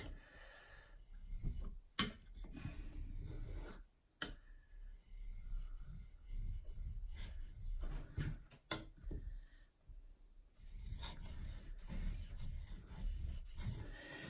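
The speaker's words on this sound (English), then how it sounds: "when you're actually really working the stone and pushing with a knife" A knife pushed and worked across a natural whetstone gives repeated scraping, rasping strokes in bursts with brief pauses between them, close by and fairly quiet, with no talk.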